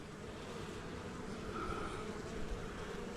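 Honey bees at an open hive swarm around a brood frame packed with pollen, a dense, steady buzzing drone that fills the air closely with no voices.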